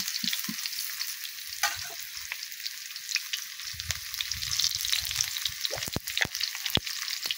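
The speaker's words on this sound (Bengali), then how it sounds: "আর এদিকে মাংসের আলুগুলো লাল লাল করে ভেজে নেব" Potato pieces for a meat curry fry in hot oil in a pan, a close, steady crackling sizzle with occasional stirring scrapes and clicks.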